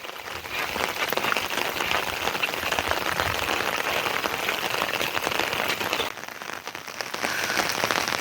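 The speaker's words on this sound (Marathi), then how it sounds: "पण कंटिन्यू पाऊस पडतोय" Steady unseasonal rain pours down in the Konkan countryside, a dense close hiss of drops on surfaces that barely eases for a moment before returning at full strength, with no voices over it.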